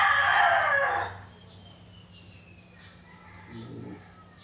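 A rooster crows loudly nearby in one drawn-out call, then fades, leaving faint background hum and distant bird calls.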